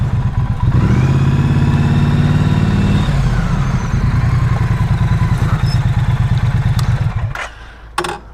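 A Triumph Street Twin motorcycle engine idles and revs up close with a deep, steady throb, then cuts out near the end.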